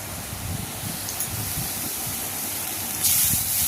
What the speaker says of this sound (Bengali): এখন তেলের মধ্যে কালো জিরে ফোড়ন দিয়ে পেঁয়াজটা দিয়ে দিয়েছি